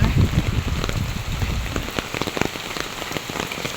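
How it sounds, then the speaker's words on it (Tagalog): Steady rain falls outdoors in the Philippines, a dense patter of drops hitting surfaces with scattered louder splashes, constant and close throughout with no voices. "Inabot na po ng ulan at talaga naman po dito wala ng kasawaan ng ulan."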